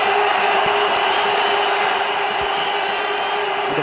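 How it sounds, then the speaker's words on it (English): A large stadium crowd at an India versus Pakistan cricket final roars continuously after a six is hit, a dense, loud, sustained wash of cheering. "The crowd go berserk."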